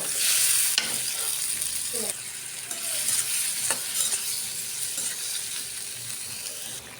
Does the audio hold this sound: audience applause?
no